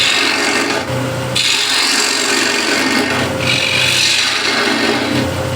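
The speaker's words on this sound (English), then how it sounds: "ball gouge" A ball gouge cuts into wood spinning on a lathe, giving a loud, close, continuous rasping scrape broken by two short pauses.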